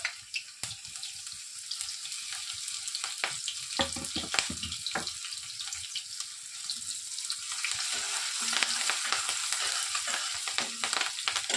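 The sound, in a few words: garlic and green chilies frying in hot oil in a kadai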